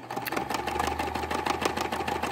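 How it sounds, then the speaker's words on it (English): A sewing machine stitching a rope bowl with a quilt block added to the bottom, running in a rapid steady mechanical whir with quick rhythmic needle clatter, close and loud throughout. "once you start sewing, isn't this machine great?"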